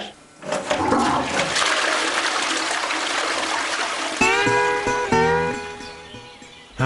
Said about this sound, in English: So I have to flush.